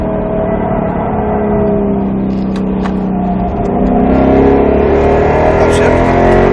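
A Roush Mustang RS3 is driven on a track, its engine holding a steady, loud rumbling note that swells toward the end as the driver gets back on the gas, with speech over it.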